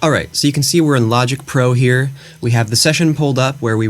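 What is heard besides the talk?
No everyday noise stands out behind the speech.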